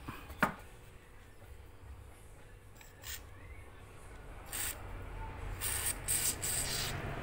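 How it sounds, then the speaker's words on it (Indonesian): Motorcycle lubricant is sprayed from an aerosol can onto the wheel of a glass display cabinet, giving several short, close hissing bursts after some light scraping and rubbing. "saya semprot ini ya, semprotan motor ya"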